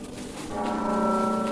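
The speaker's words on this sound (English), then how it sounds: "Oh god, what are they doing with that bell? Is that even a bell anymore?" Strange, distorted bell ringing from a horror video game, sustained droning tones that swell louder partway through and hang heavy and metallic, with no voices over them.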